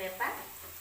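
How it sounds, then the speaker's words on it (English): Onions and green pepper frying in a pan for wet fry fish, a steady close sizzle with a brief louder hiss from stirring, no talk. "when frying your onions, make sure they are not too golden brown"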